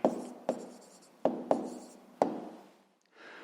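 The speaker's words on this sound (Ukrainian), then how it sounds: "записуємо відповідь, пишемо відповідь" Pen writing an answer on paper, a few short distinct scratching strokes with brief pauses between them, close and fairly quiet.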